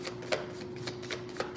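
Tarot cards being shuffled by hand, heard as a few soft, quick riffling bursts spaced about half a second apart over a faint steady hum, close and quiet, with no talking.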